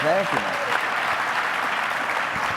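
Conference audience breaks into sustained applause, a steady dense patter of clapping, while a voice speaks briefly over the start.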